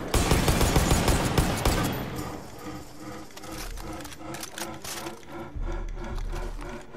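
Rapid bursts of gunfire in Far Cry 5, loud and dense at first, then settling into repeated sharp shots over a rumbling game backdrop, with a voice briefly heard.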